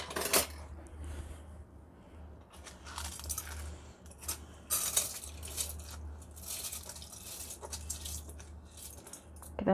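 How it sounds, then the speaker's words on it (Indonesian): Washed rice being poured into a pot, a series of gritty rattling pours and grain clatters in uneven bursts over a low background hum, fairly close and moderately loud. "kemudian berasnya kita masukkan ke dalam panci ya"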